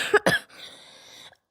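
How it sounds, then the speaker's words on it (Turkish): A 12-year-old boy coughs twice in quick, harsh bursts, followed by a faint raspy exhale trailing off into quiet. "Bu öksürük beni gece de uyutmuyor."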